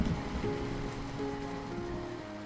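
Rain falls steadily, a dense even patter of raindrops on a surface, close and moderately loud, with no voices.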